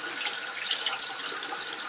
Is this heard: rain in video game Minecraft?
no